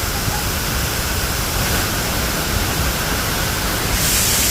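Water pours at Bridal Veil Falls, a steady, close, broadband roar that fills the whole stretch without any pause.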